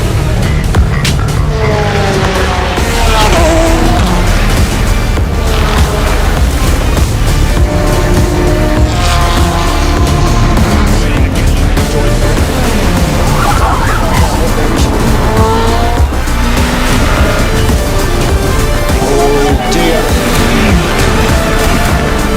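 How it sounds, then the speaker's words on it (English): Ferrari and Corvette race cars battling at the Le Mans 24 Hours, engines roaring and rising and falling in pitch as they pass, with loud crowd-level race noise under continuous commentary. "The Ferrari has the inside line, the Corvette comes back under top speed"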